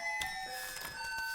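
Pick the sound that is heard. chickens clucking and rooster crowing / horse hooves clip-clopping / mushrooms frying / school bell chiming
school bell chiming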